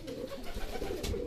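Racing pigeons coo in a loft, a soft low burbling call close by over a noisy background.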